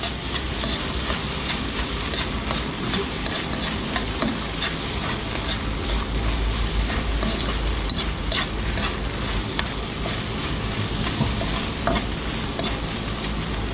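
Food sizzles and fries steadily in a pan while being stirred, with frequent scraping and clattering stir strokes over a continuous close frying hiss; no talking.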